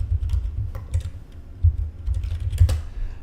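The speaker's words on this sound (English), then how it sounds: "type in these values" Values are tapped out on a computer keyboard as a close run of irregular clicky keystrokes with short pauses, and no voices.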